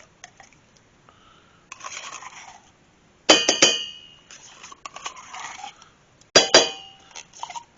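A knife scrapes tomato sauce from a metal can into a saucepan, with sharp metallic scrapes and clinks in several bursts separated by quiet pauses, close up and with no talk.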